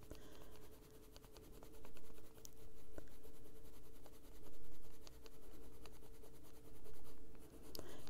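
Prismacolor colored pencil shading on a coloring-book page, a steady close scratchy strokes in repeated rhythmic passes, soft and continuous with no talk.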